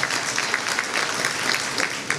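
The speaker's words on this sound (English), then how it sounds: "Give him another round of applause" A graduation reception crowd claps in a sustained round, dense and even, with a few sharper claps standing out; no speech over it.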